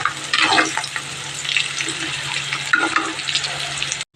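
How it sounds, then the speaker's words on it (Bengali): Potato and onion fry in mustard oil with cumin seeds in a pan, giving a continuous crackling sizzle with brief louder spits and a low steady hum underneath. "আলু আর পেঁয়াজটা একটু ভেজে নিচ্ছি, জিরে ফোড়ন দিয়ে দিয়েছি, আর সর্ষের তেল দিয়ে রান্নাটা করছি"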